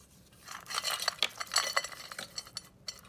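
Walnuts dropping into a bowl for a cheesecake crust, giving a quick cluster of light clinks and rattles against the bowl, close and fairly soft, bunched around the middle of the moment with no talking.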